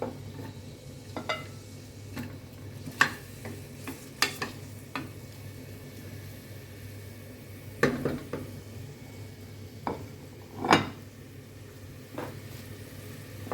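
Chopped onions fry in hot oil for a spicy chicken gizzard dish: a low, steady sizzle broken by scattered clinks and scrapes of a spoon against the pot.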